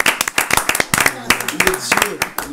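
A church congregation claps to acclaim the Lord during a sermon, with brisk, rapid, uneven handclaps close by and a voice speaking throughout.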